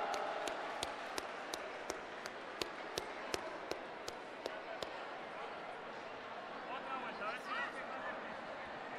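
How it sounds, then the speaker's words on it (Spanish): Sustained crowd applause from an audience following a robot's maze run at a robotics competition, a steady wash of clapping with a few sharp taps early on, then murmuring crowd noise. "Un aplauso, venga."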